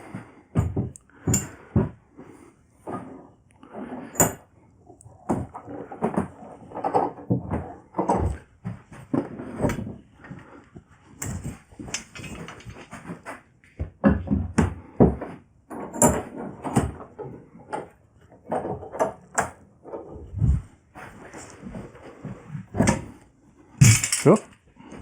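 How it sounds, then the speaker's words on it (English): Clamps being set and tightened on an arched wooden passage gate: irregular, close clanks, clicks and knocks in short bursts, with gaps between handling noises. "let's get some clamps on it. Give it a little squeeze."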